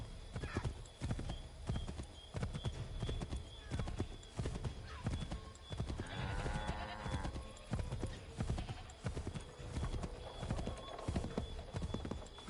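Rapid rhythmic hoofbeats of a galloping horse in the video game Assassin's Creed III, close and steady, with a horse whinnying partway through.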